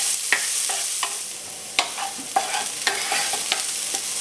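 Shallots sauté in oil in a pan, a steady soft sizzle broken by repeated sharp scrapes and taps of a utensil stirring them, close and without talk.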